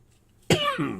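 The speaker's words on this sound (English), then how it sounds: "Stand by while I cough." After a moment of near silence, a single sharp cough rings out close by, followed by a brief rough throaty tail.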